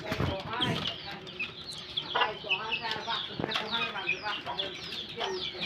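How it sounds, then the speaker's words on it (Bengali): Chinese hens and other chickens in a farm cage clucking and squawking close by in repeated short calls, with occasional wing rustles, while a person talks over them. "এখানে দেখতে পাচ্ছেন আছে চীনা মুরগি"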